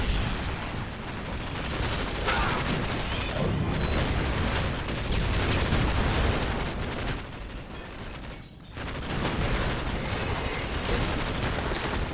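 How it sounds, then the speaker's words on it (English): Sustained gunfire from Warhammer Dawn of War Dark Crusade as Necron forces shoot down a portal on hard difficulty, a dense, loud, continuous barrage of shots and blasts with a brief dip near the end, no talk. "Let's just start shooting down the portal here."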